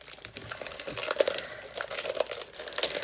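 A pack of patterned papers from the Wild Whisper Designs Carefree Collection is opened up close, with a steady run of crinkling and tearing of the wrapper that swells and dips for about three seconds.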